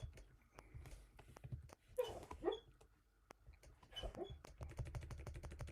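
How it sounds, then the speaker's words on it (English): A dog having night tremors whimpers and yelps faintly in the background, with soft computer keyboard typing around it. "Can you hear my dog? She's having her night tremors."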